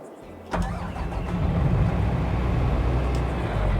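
A Case IH tractor engine in Farming Simulator fires up with a sharp start, then settles into a steady, loud, low rumbling run.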